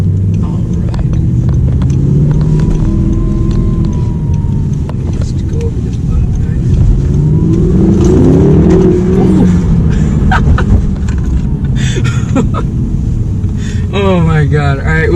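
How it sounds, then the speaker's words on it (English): Audi R8 V8 mid-engine sports car on the road, its engine a steady close rumble from behind the cabin with rising and falling revs, heard under people talking inside the car. "you can hear the engine in the back, and that's the best thing about a mid-engine car"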